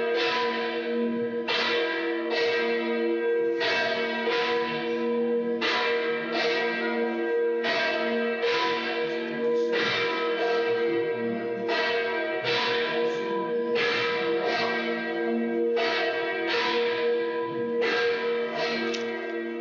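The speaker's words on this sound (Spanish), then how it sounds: "No son campanas rotas, no son campanas desafinadas, son campanas navarras." Navarrese church bells peal in a steady, loud, continuous ringing, with repeated strikes roughly every second over a sustained ring of overlapping tones, heard alone with no talking.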